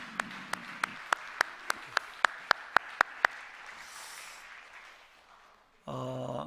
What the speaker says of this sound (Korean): 부모님들, 선생님들 위해서도 박수 한번 합시다.